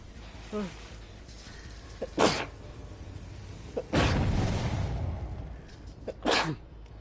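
A sharp sneeze bursts out near the start of a room-toned stretch during a Dead by Daylight game, followed by other loud bursts and brief muffled noises.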